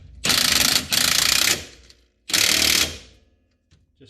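An impact gun tightens a shock absorber nut on a Jeep YJ in three loud, close bursts, two quick ones back to back and then a third after a brief pause.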